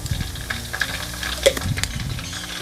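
Garlic frying in hot oil in a pan while it is stirred, a steady close sizzle with scraping and clinks from a utensil, and no talking.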